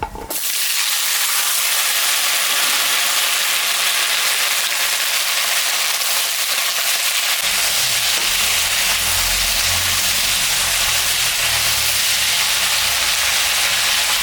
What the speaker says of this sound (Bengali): তেলের উপরে শুকনো লঙ্কা, জিরা, সম্বরা দিয়ে দিলাম।